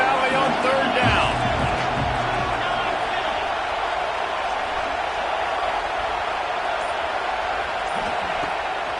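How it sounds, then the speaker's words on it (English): A big crowd in Happy Valley roars on third down at a college football game in a football video game. The sustained, dense noise carries on throughout, with commentators talking over it. "Here comes the noise from this big crowd in Happy Valley on 3rd down."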